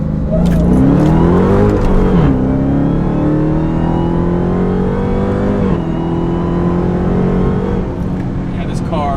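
A 2020 Dodge Charger Hellcat Widebody in sport mode, engine revving and accelerating hard through the gears, pitch climbing in loud sweeps with brief drops at each shift.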